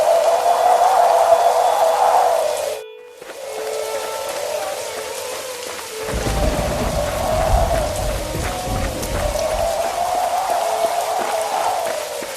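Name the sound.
heavy torrential rain in a cartoon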